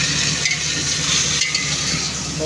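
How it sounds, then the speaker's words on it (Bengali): Chicken fries in a pan for a South Indian style chicken curry, a steady close hiss of sizzling oil with light stirring clicks, no talking. "ফ্রাই করে তারপরে দিয়ে দিচ্ছে চিকেনটা"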